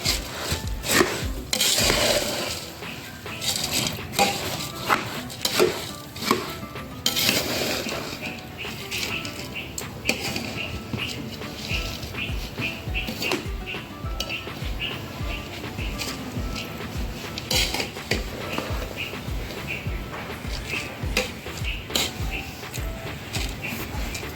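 Boondi is stirred into sugar syrup for laddoos with repeated scraping and rubbing strokes against the pan, in a close, uneven rhythm, and a voice is heard at times.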